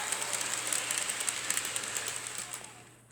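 Train engine 3001 pulling out of a railroad yard, a faint, steady rolling rumble with light rhythmic clicking of wheels on rail, fading slightly at the end.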